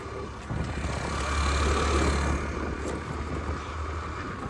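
An 8-year-old Yamaha scooter being ridden on a road, with a steady engine drone and road and wind rumble that swells briefly, continuous and close.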